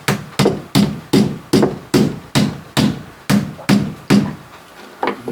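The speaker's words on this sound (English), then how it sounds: "I just smacked this with the hammer." Hammer blows strike a rubber-patched boat floor, about eleven sharp, evenly spaced smacks in steady rhythm, loud and close with no talking.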